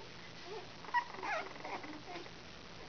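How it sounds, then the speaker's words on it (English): Almost three-week-old puppies, a litter of Sophie and Reese's, make faint high yips, whimpers and squeaky little barks, soft and close, scattered irregularly over quiet background. "Can you believe that puppy barking?"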